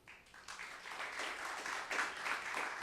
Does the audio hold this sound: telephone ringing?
no